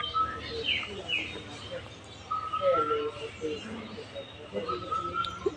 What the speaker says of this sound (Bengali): ছোট দেখে তো ভাবলাম এর মনে হয় নিশ্চিত লাভবার, তারপর সত্যি লাভবার